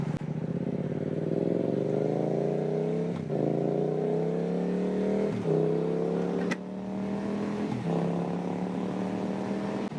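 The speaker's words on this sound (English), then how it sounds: "Akra exhaust on this bike, holy shit, what a amazing, heavenly combination." A Yamaha MT-07 motorcycle with an Akrapovič aftermarket exhaust revs repeatedly and loudly up close, rising engine tones climbing in pitch with sharp breaks between shifts, and no voices.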